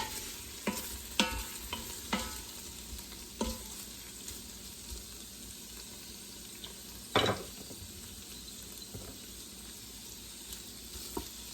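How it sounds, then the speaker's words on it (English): Carrots and garlic sautéing in butter with Herbs de Provence, a quiet steady sizzle broken by a few clattering stirs and one louder scrape of the utensil in the pan. "I'm going to let that saute with the butter and carrots and garlic."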